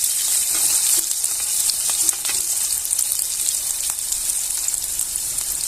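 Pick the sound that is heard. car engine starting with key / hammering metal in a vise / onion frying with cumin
onion frying with cumin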